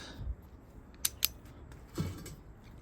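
The leg mechanism of a Cayer SV5 tripod monopod gives two quick, sharp clicks close by, followed by a softer click, all faint against a quiet background.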